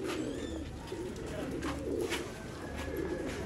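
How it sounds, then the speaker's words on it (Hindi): Sialkoti pigeons coo softly from a rooftop loft, low murmuring calls rolling continuously under a steady hiss of background noise, with faint chirps and a distant voice. "देखो कबूतर"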